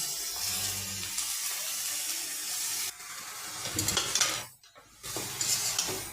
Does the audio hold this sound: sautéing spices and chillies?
yes